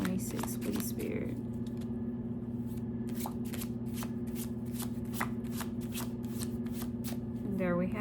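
Tarot cards are shuffled in a steady run of quick riffling flicks and soft card slaps, close and clear over a low constant background hum, with no one speaking.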